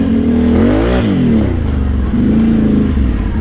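Can-Am Outlander 800 ATV engine revving loud and close, its pitch rising and falling through a couple of throttle blips over a steady rumble.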